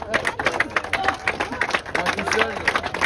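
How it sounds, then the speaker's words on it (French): A crowd applauds a winning Route du Rhum 2022 sailor, dense clapping rising and falling steadily with chatter and voices mixed in throughout. "Faut les applaudir."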